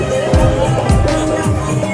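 Dense crowd hubbub fills a busy Hindu pilgrimage fair along a Bol Bam cycle yatra route, a loud continuous babble of many voices with people talking close by.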